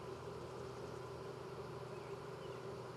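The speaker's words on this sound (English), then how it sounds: "Because there is a lot of bees on here." A honey bee swarm clustered on a tree branch gives off a steady, faint, even buzz that holds unbroken throughout, close to the listener and with no voices.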